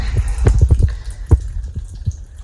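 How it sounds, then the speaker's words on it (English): Water drains and drips through small-scale rabbit fodder system trays, producing a close, irregular series of splashy trickles and drips, with one louder splash partway through. "You can see the water just drains through."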